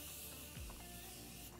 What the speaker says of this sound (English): now I'm going to give my face a little spritz of the Morphe setting